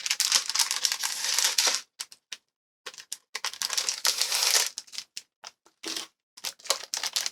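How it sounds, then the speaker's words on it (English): Painter's tape is peeled off a mail package in bursts, with close, crisp ripping and crinkling sounds broken by short pauses and a few sharp individual tears. "let me get this painter's tape off"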